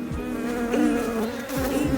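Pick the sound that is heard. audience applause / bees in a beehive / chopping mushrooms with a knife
bees in a beehive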